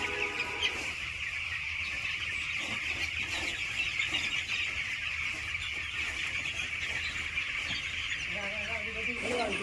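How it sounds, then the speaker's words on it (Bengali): Poultry chickens cluck and squawk continuously, close and fairly loud, as they are herded to one side of their pen, with a dense flock chorus throughout. "মুরগিগুলোকে প্রথমে একদিকে তাড়িয়ে নিয়ে গিয়ে এক সাইডে রাখতে হবে"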